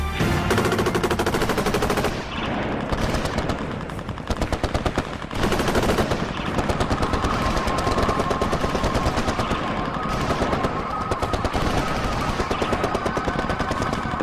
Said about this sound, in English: In a matter of seconds, a hurricane of bullets.